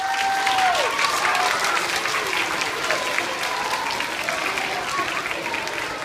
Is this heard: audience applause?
yes